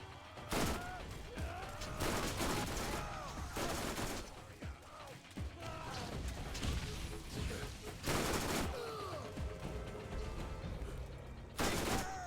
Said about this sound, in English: So Double Anarchy is a SMG that fires 4 bullets per trigger pull